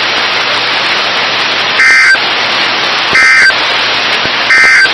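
Three short, loud electronic tone bursts from a weather radio warning alarm test, evenly spaced and cutting through a constant hiss of radio static.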